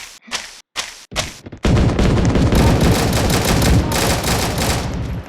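Gunfire in the video game Recoil: a few quick, separate sharp shots open the clip, then a loud, dense, continuous burst of rapid fire and crackling that fills the rest without letup.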